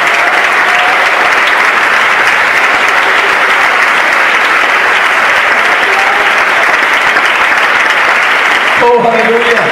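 Sustained loud congregation applause during a Christian sermon, a steady dense roar of many hands clapping at close range that continues evenly and cuts off at the end.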